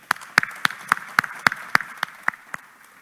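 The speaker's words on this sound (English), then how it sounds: "Let's give them a round of applause." An audience at an awards ceremony claps in a sparse, rhythmic applause, with about a dozen distinct sharp claps close by over three seconds, thinning out toward the end.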